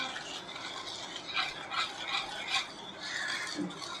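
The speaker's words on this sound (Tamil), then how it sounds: "முட்டை நம்ம ஆட் பண்ண முட்டையும் நம்ம ரெடி பண்ணி வச்சுருக்க கோவாவும் ஒன்றோட ஒன்று மிக்ஸ் ஆகிற அளவுக்கு இந்த மாதிரி நல்லா விஸ்க் வச்சு பீட் பண்ணிக்கோங்க" Eggs and khoa beaten together with a whisk in a bowl, giving a continuous fast scraping, clicking rattle of wire against the bowl at steady moderate loudness, with no voices.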